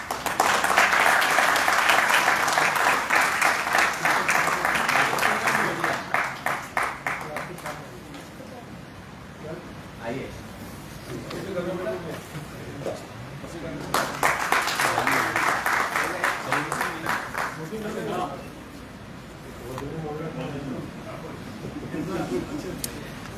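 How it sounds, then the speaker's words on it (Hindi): An audience at a journalism award and dialogue event in Gwalior claps to encourage two students, with two strong bursts of applause separated by a stretch of speech. "आप सभी का साथ तालियों के रूप में मिले।"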